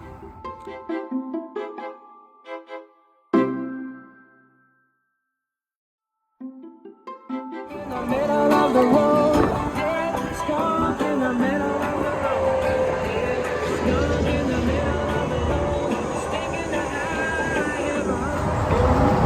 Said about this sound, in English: You got the trucks on the left and the trains on the right.